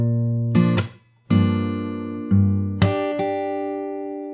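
Last two chords of a song on fingerstyle guitar, several strummed and plucked chords with strong low strings ringing close and full, sustaining between attacks, no talking.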